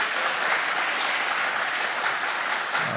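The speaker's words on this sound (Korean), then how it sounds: "이제는 박수하면 됩니다. 지금." A congregation claps steadily in sustained, dense applause, fairly loud and unbroken for a few seconds, at a church worship service.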